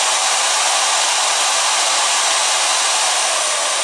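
A digital pistol hair dryer runs on its highest setting, giving a steady, loud airy roar with no change across the few seconds and no voices.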